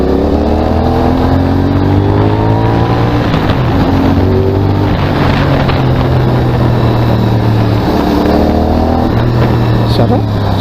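An NK450 motorcycle engine runs steadily and loudly up close while riding, its pitch rising and falling as it revs, with wind rush throughout.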